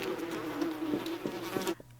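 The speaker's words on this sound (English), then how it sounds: "Yeah, they're just flies." Flies drone continuously around dead bodies in a zombie video game, a steady close buzz with slight wavering pitch that cuts off abruptly near the end.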